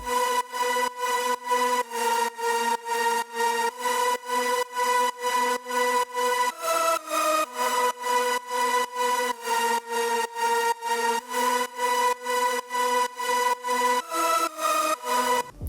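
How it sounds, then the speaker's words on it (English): A bright, buzzy synth lead layered from Serum and wavetable synths repeats short, evenly spaced stabs of the same notes in a steady rhythm, with a few pitch changes. It plays alone, without voices. "And then we have the third synth lead, which is layered from the serums and a wavetable."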